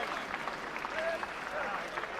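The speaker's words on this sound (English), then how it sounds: "Ladies and gentlemen, a round of applause for the gallant Danny Williams." Boxing crowd applauds the gallant Danny Williams after his British heavyweight title fight against Derek Chisora, a steady wash of clapping with scattered whistles and voices, moderately distant and sustained throughout.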